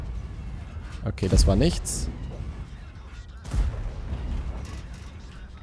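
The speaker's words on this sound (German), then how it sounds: "Dann muss ich jetzt hier anfangen, drauf zu schießen." Cannon shots from a tank in the World of Tanks video game, a Waffenträger tank destroyer firing at an E100: a booming blast and a second thud over continuous engine and battle rumble, with someone talking over it.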